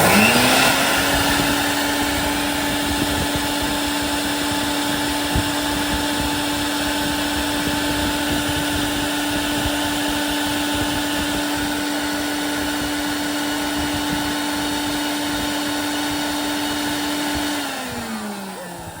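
A pump flushes clogged dirt out of an air conditioner drain pipe, with a loud, steady motor whine that holds one pitch for about seventeen seconds before winding down.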